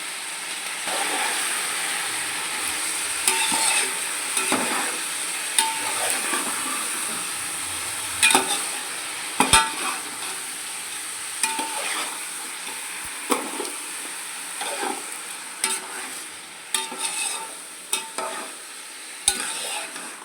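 Mutton sizzles steadily in hot tempering oil in a pan, broken by repeated scraping and stirring clatters, close by with no talking.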